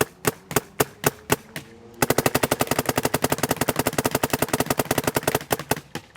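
A Dye paintball marker with a mechanical frame fires a few spaced single shots, then a rapid double-trigger stream of loud, close, evenly spaced pops lasting several seconds, with no talking.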